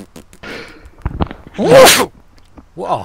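A sharp human sneeze bursts out loud and close, preceded by a startled exclamation and followed by a brief voice, with someone talking around it during a hunting video game session.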